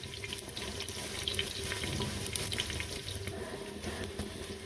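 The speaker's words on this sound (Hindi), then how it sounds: "अब हम इसमें प्याज डालेंगे और इन्हें थोड़ी देर के लिए भूनेंगे।" Onions fry in hot oil for a chicken and potato curry, giving a steady, even sizzle with a rushing, hiss-like texture that holds at moderate level throughout.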